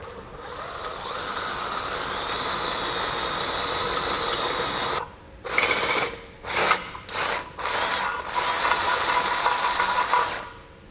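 A power drill enlarges pre-drilled holes in the frame rail of a 2019 Ford, with a long steady whine followed by several short, loud bursts as the trigger is pulsed.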